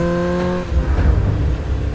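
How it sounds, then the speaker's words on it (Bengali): A motorcycle engine revs hard during a race in an animated story, a loud close whine that cuts off and gives way to a rumbling roar. "লালু বাইকে আরো স্পিড বাড়িয়ে ডাইনিকে ফলো করতে থাকে।"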